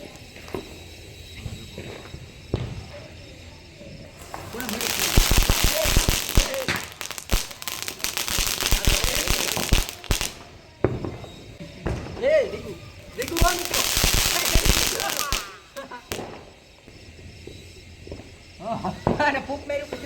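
Four or five Diwali firecracker bombs set off together, giving two long, loud crackling bursts of several seconds each, separated and followed by quieter stretches with scattered pops and noise.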